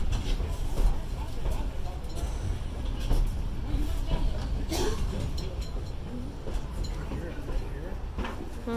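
Train rolling along rails, a steady broadband rumble with faint rhythmic clatter running throughout, with people talking over it inside the carriage.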